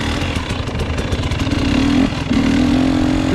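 A 2021 KTM 300 XCW TPI fuel-injected two-stroke dirt bike engine runs steadily close by, its raspy buzz rising slightly in pitch partway through, with no voices.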